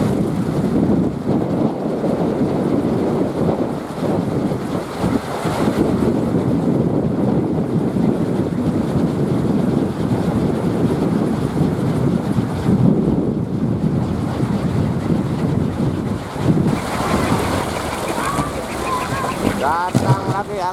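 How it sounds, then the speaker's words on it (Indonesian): Strong wind buffets the microphone in a steady, loud roar, with a surge of gusting noise toward the end; a voice is faintly present underneath. "Datang lagi angin kencang"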